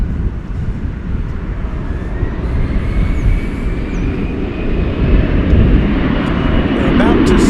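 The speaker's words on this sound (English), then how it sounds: "There's American Flight 1853, if I read it right here. It's an Airbus A321 coming in from Las Vegas." An American Airlines Airbus A321 arriving at DFW Airport from Las Vegas makes a steady jet roar that builds gradually and stays loud at the end.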